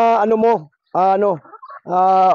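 Young chickens (pullets) give three bursts of loud, close, throaty clucking and squawking calls. Short gaps and a few softer chirps separate the bursts.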